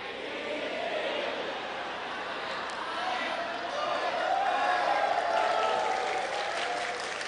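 An audience at an Islamic sermon gathering applauds in a sustained wash of clapping that swells midway, with some crowd voices mixed in.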